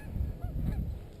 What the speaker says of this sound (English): Got some goose distraction right here over the top of her.